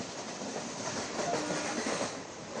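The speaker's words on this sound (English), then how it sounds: "The train reaches Varanasi junction on its way to Bokaro" The Oxygen Express train running toward Varanasi junction on its way to Bokaro, a steady rolling rumble with faint rhythmic clatter and a soft high whine, heard from inside at moderate volume without voices.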